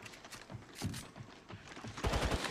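Video game gunfire from Apex Legends Mobile, short rapid bursts of shots crackling in quick succession, growing louder and denser toward the end.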